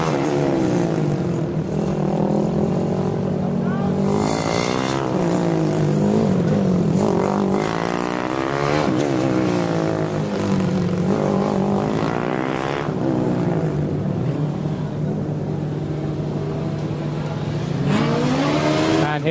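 Formula Student race car from the Schweinfurt team passing on the endurance course at FS Germany 2009, a loud, steady high-revving engine drone with rising and falling pitch sweeps as it goes by, continuous throughout.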